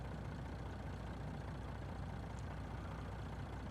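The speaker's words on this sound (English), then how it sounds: "know the engine noises are loud." A farm vehicle engine in Farming Simulator 19 drones steadily at a loud, even level, a low rumbling idle with no voices over it.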